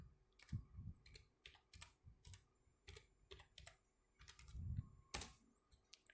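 Superuser password being typed on a computer keyboard at a Debian login, a run of quiet, close, irregular key clicks with short pauses between bursts.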